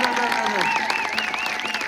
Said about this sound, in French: J'aimerais qu'on l'applaudisse bien fort, ce monsieur, s'il vous plaît.